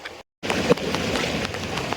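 Rain falls in Naddi, a mountain village, as a steady close hiss of drops that starts after a brief moment of silence, with a soft thump partway through.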